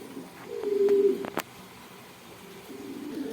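A pair of Sirazi pigeons coos softly at a pigeon sale in Bangladesh, with low murmuring calls and a sharp click partway through, faint against a quiet background.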